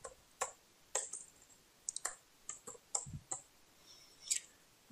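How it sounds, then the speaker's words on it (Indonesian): Computer mouse clicks while working in Canva, sharp isolated ticks arriving every half second to a second, close and crisp against a quiet room, with no voices. "Kita klik buat gambar"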